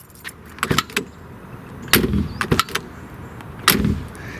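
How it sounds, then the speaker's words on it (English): Car door of a Porsche 944 S2 Cabriolet clicks and latches, then two solid, heavy thuds as the door is shut, close and distinct, with no talking. "the solid thud of the door when closing"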